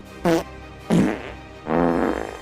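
Three fart sounds in quick succession, each a buzzy, sputtering burst, the last one longer and drawn out.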